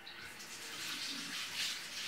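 Tap water running into a kitchen sink during handwashing, a short steady splashing hiss, fairly faint and close, with no talking.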